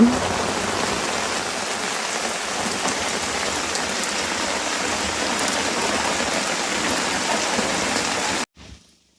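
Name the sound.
rain falling at a campsite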